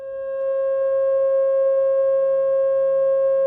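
A steady pure sine tone at 540 cycles per second, linked to a pentagon, fades in quickly and then holds loud and unwavering, with faint upper overtones and nothing else.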